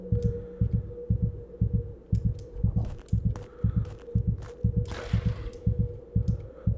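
A monster-hunting video game plays a steady, rapid heartbeat, evenly spaced low thumps repeating throughout, with faint clicks and a quiet hum behind them.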